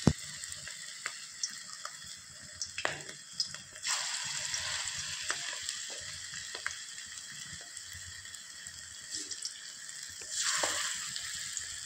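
Cabbage fritters fry in a wok with a soft, steady sizzle that stays faint and close, broken by scattered light clinks and a louder burst of bubbling near the end.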